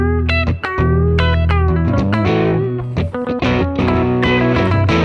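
Electric guitar with heavy distortion played live by an 80s cover band, loud sustained power chords and choppy riffs ringing out close and full.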